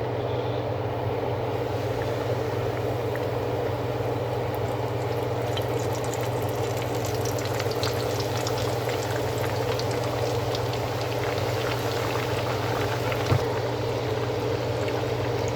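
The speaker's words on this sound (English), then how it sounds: "let these fry on each side for about 4 minutes" Chicken pieces frying in 350-degree oil, heard as a steady, dense bubbling hiss that holds at an even level throughout, close and continuous, with a faint low hum beneath and one small click near the end.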